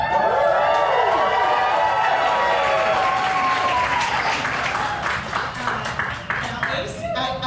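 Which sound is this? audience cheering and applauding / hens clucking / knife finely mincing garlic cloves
audience cheering and applauding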